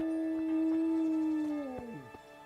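A dog howls in the medieval role-playing video game Kingdom Come: Deliverance, one long sustained tonal howl held steady and then sliding downward in pitch near the end, loud and alone without talk.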